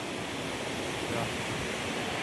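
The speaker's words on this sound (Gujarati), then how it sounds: "વરસાદનું વાતાવરણ નથી તો એટલું પાણી પડે છે" A mountain waterfall stream at Kalpeshwar temple in Uttarakhand roars as a dense, continuous rush of falling water, loud and steady throughout, with no voices rising above it.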